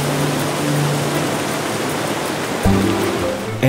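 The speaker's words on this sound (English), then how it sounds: "the water forms several waterfalls that drop into a seething cauldron of sparkling water" Steady, broadband rush of waterfalls at Plitvice Lakes in Croatia, with water plunging into a churning pool, loud and continuous with a faint tonal hum and a brief bump near the end.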